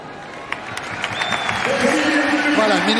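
A football stadium crowd at France versus Italy applauds after a minute of silence, clapping that builds from scattered to a broad swell, with a commentator talking over it and whistles rising in the background.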